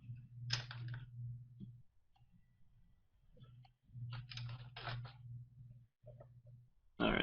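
Fingers typing on a computer keyboard during a video-call screen share: scattered clusters of quick key clicks come in short bursts over a low electrical hum, and no one speaks.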